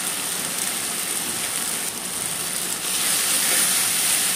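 Masala with Kashmiri chilli powder fries in oil while cooking potol, a steady close hiss of sizzling that swells slightly louder toward the end, with no voices.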